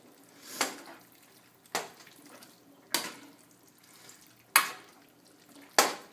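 A utensil stirs homemade pasta ribbons in a pan, making soft, wet, sloshing scrapes with a sharper clack roughly every second, close by and steady.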